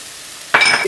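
Turmeric and chili powder hit hot oil in a pan with a sudden loud sizzle that bursts in after a quiet moment and carries on close and bright.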